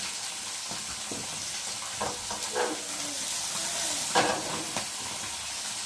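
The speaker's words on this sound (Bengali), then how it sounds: "মাছটা তখন ভাজা হোক" Fish frying in a pan, a steady hissing sizzle with occasional louder crackles and spatters, heard close and without talk.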